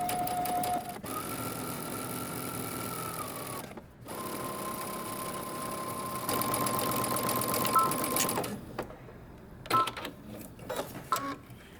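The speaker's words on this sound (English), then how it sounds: "now we're going to sew using 5/8 of an inch seam allowance, starting at the dot and sewing our way up" Sewing machine stitching a skirt seam, a fast steady mechanical whirring run that pauses briefly twice and restarts, ending in a few short bursts as the stitching stops.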